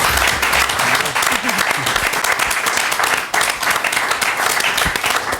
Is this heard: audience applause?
yes